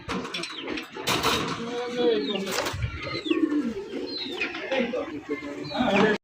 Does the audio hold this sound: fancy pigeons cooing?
yes